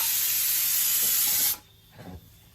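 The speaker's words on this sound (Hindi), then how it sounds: "कखनो कतार का फुफुआ जाय है कुकर फुफुआ जाय है" A pressure cooker vents steam in a home kitchen, a loud, close, steady hiss that cuts off abruptly after about a second and a half, followed by faint thuds.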